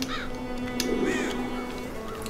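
Cartoonish bird calls in the game Child of Light sound as a few short, rising squawks over a steady musical drone, faint and brief, with no talking during them.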